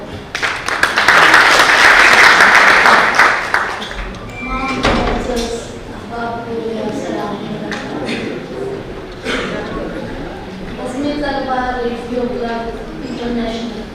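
Audience applause in a large hall at a poetry evening at Governor House Karachi, loud and dense for the first few seconds, then fading as a voice speaks over it to introduce Dr Khalida.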